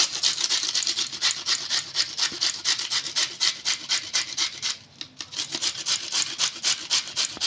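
Cabbage is rubbed over a hand grater for vegetable pakoras, giving a fast, even series of rasping scrapes in a steady back-and-forth rhythm, close and clear, with a brief pause near the middle.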